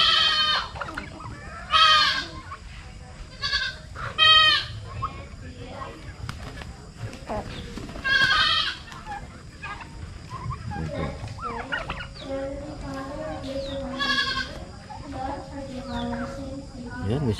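Several loud goat bleats ring out in bursts, near the microphone, with voices talking and other farm animal sounds in between, at a camping site in Naic, Cavite.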